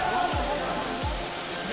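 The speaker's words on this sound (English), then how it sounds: "This is one of the most wonderful waterfall which I have ever seen." A waterfall at Satrem near Valpoi, Goa, roars as a steady broadband rush of falling water. Two low thumps sound under it, and the roar stays dense and constant throughout.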